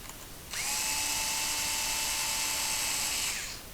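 A power drill drives a screw into the cover of a mechanical push-button door lock, one steady high-pitched whir lasting about three seconds at close range, with no talk.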